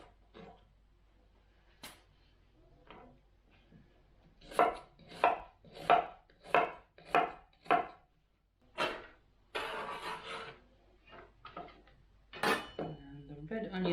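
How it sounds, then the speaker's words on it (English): Yellow onion being roughly chopped with a knife on a board, a run of distinct, evenly spaced loud chops in the middle, with scattered knocks before and after, plus rustling and brief handling sounds. "The yellow onion, I'm just gonna cut roughly."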